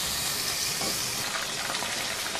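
Mutton cooks in a pan with yogurt, dried plums and curry leaves, giving a dense, steady close sizzle and bubbling hiss without pause.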